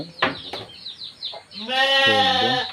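Sheep kept in a goat barn bleat loudly and close by, a few short calls followed by a long, wavering bleat that dominates the end.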